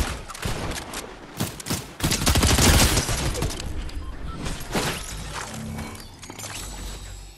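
Rapid gunfire in the video game Fortnite, a dense burst of loud shots with fast repeated cracks and mechanical clatter, continuing for several seconds with no voices.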